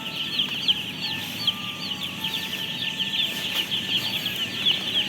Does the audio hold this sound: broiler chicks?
yes